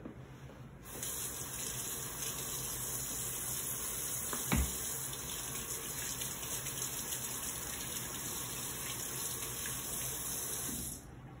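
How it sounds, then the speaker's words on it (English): A tap runs steadily into a sink as hands are washed with soap before seeing a patient in a clinical lab practicum, a close, even splashing rush that starts abruptly and stops near the end. "I'm going to wash my hands using water and soap to disinfect any bacteria"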